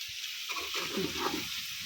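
Small potatoes frying in a pan with pepper powder, stirred with a spoon: a soft steady sizzle with irregular scraping and tossing sounds, close and moderately quiet, no talking.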